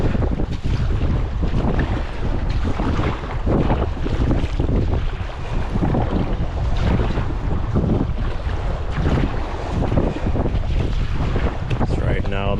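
Strong wind roars over the microphone while sea kayaking in an Advanced Elements Airfusion kayak, a loud, constant buffeting rush mixed with waves and water, with no clear talk.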